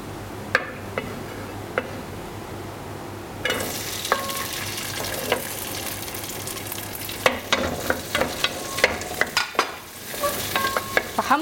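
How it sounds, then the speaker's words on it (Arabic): Green peppers frying in sunflower oil in a pan for vegetable biryani: a quiet hiss that jumps to a loud, steady sizzle as the peppers go in, with scattered clicks and scrapes of stirring on top, no talk. "هحمر الفلفل دقيقتين الأول."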